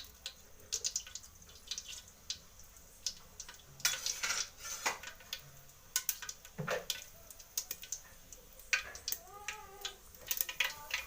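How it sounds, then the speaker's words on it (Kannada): Mustard seeds splutter and pop in hot oil in a pan for a Kannada keerai soppu saaru, sharp irregular crackles and sizzles close by that keep going, with faint kitchen clatter and no speech. "ಎಣ್ಣೆ ಕಾದಿದೆ. ಸಾಸಿವೆ ಹಾಕೋತೀನಿ."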